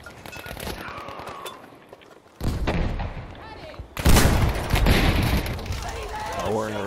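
Heavy gunfire and tank cannon blasts in a video game battle: a dense, loud barrage with sharp booms at intervals, mixed with speech.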